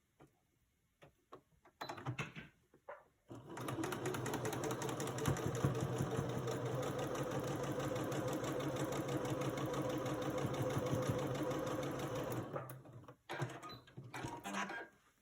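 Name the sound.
sewing machine sewing quilt pieces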